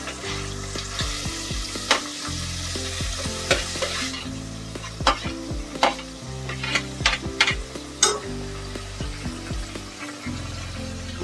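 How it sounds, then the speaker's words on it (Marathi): Onion frying in a spiced tempering for pulao: a continuous close sizzle with frequent spoon stirring and scraping against the pan, and music playing underneath. "आता आपण कांदा घालून घेऊया फोडणीला"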